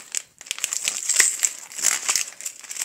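Gift packaging is torn and opened up close, with crisp crinkling and crackling of paper and plastic in irregular bursts and brief sharp rips, no speech.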